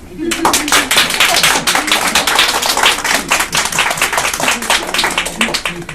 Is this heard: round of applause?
yes